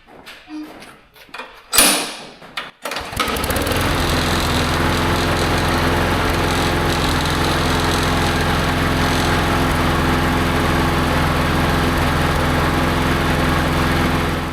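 A push lawn mower with a surging engine and a freshly refitted carburetor is pull-started after a few rattling clicks, then catches and runs at a loud, steady, close drone to the end.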